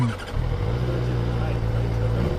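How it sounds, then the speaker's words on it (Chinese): A QJmotor Race 600RR sport motorcycle sends out a steady, low, throaty exhaust drone close by after a brief rise at the start, holding an even pitch throughout. "哦，排气管声音好听得多。"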